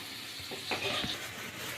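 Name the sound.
potatoes frying in a pan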